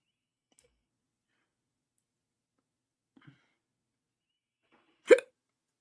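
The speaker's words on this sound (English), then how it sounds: "It hiccups." One sharp, sudden hiccup breaks near-silence after a few faint clicks, close and fairly loud.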